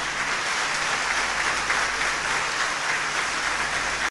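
A congregation at a Methodist church reunification service in Benin gives a sustained ovation, with dense, even applause that holds steady until it cuts off.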